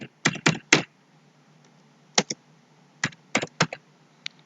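Clicks from a computer keyboard as a short word is typed, a quick group of key presses followed by a pause and then more scattered taps, close and crisp in a quiet room.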